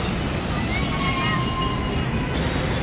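An Ahmedabad metro train near Vastral Gam station produces a steady, loud rail rumble with faint wheel squeal over the road below, continuous throughout with no other clear sounds.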